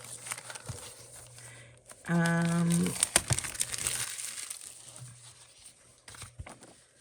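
Plastic packaging of a Paper Pumpkin craft kit crinkling as it is opened, a close burst of rustling and crackling lasting a few seconds amid quieter handling noise and a brief tone.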